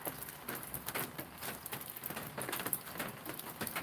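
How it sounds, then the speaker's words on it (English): Steady rain falling outdoors on a riverbank during a catfish noodling trip, a dense close patter of drops striking surfaces with scattered louder splats, continuous and without talk. "It is definitely raining."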